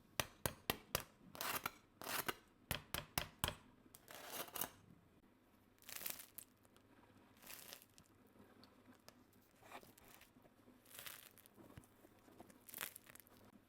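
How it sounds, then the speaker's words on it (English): Freshly baked homemade bread crust crackles and crinkles when handled, with a quick run of sharp crunches at the start and then sparser, softer crackles on a quiet background. "Let's listen to the crust."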